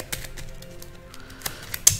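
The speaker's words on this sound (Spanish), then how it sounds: "Vamos a barajar los descartes." Discarded playing cards from the Journeys in Middle-earth board game are shuffled by hand, making a quick run of light, crisp taps and riffling clicks close by, with no talking.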